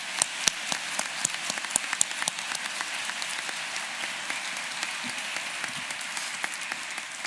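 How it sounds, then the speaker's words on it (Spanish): Applause from the audience at a national cybersecurity forum in October 2024, many hands clapping steadily for about seven seconds, with a few sharper claps standing out near the front. "este aplauso es de todos nosotros"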